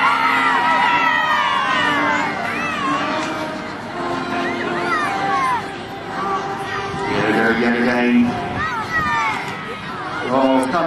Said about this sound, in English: Come on, let them hear you. Give them a good old cheer.